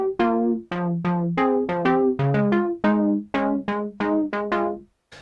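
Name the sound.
Prophet 6 synthesizer main patch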